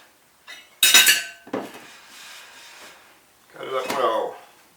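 Spoon mixing sugar into butter in a bowl, a few close scraping and clinking strokes with a sharp utensil knock at the start, mixed with speech.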